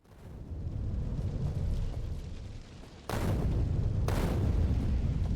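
Explosions in Factorio, a rumbling blast building up and then two sharp, loud booms in quick succession near the end, with no talking.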